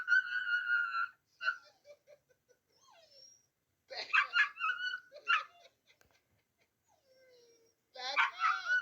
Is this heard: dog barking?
yes